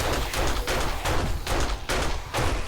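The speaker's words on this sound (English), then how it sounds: "I have to pull the trigger every time." Rapid gunfire in a shooting video game, loud bursts of shots in four quick clusters separated by brief gaps, close and alone without talk.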